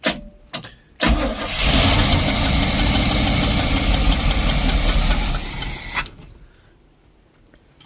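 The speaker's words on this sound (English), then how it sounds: "I'm going to try and turn the key and see if we get a starter." A 1972 Barth motorhome engine cranks briefly, catches and runs loud and steady for about four seconds before cutting off, leaving quiet afterward.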